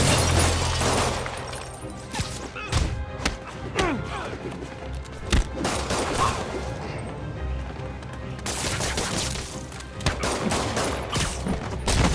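Bursts of gunfire from armed criminals in Marvel's Spider-Man video game, a rapid fusillade with crashes and impacts, loud and close, shouting voices mixed in.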